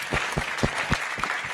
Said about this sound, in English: Can we just have one final round of applause for all our champions and legends, please